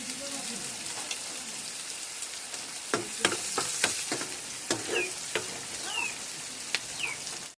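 Mustard seeds, crushed garlic, a small onion and five-spice sizzle in hot oil for a traditional Assamese fish curry, a steady frying hiss broken by sharp crackles and stirring clinks, close and moderately loud with no talk.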